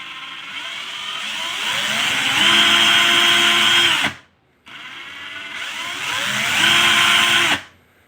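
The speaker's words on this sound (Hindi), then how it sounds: "जैसे जैसे प्रेशर दोगे वैसे वैसे इसका स्पीड बढ़ेगा।" A JPT 21 volt cordless impact drill whirs up from a lower pitch to a loud, high spin, cuts off briefly, then runs and rises again before stopping, close up and alone.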